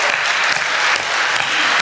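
Loud, dense applause from a large crowd at a Hindi poetry recital, steady and continuous throughout.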